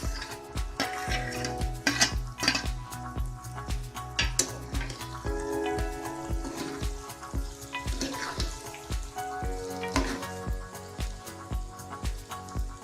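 Crushed brinjal for baingan bharta frying in a pan, a close crackling sizzle with dense spitting pops and rapid ticking clicks running steadily throughout.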